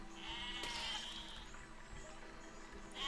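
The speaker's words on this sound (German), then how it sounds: "Das Schaf ist in die Mine gelaufen" Sheep bleating inside the video game Besiege, a single nasal bleat rising clearly over a steady hum of game background noise, heard fairly close and loud with no talk.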